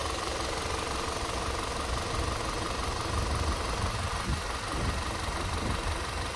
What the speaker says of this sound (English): But also a very quiet engine.